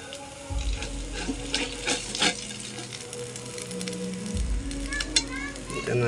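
Steady sizzling of food frying in a pan, with occasional clinks and light scraping, a continuous crackling hiss throughout.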